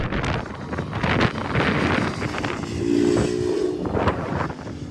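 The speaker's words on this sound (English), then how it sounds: "hope you can hear me over the wind" Strong wind buffets the microphone throughout, outdoors in Northumberland, England, a continuous low, gusty rumble that swells and eases, loud and close.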